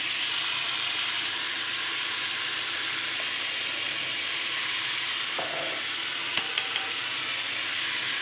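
Ginger and green chilli paste sizzles steadily in hot oil in a pan, a dense continuous frying hiss, with a few brief utensil clinks near the end.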